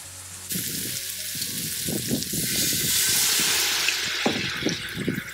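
Red wine poured onto caramelized vegetables in a hot pan for ossobuco, bursting into a loud, steady sizzle and hiss with bubbling crackles, close up.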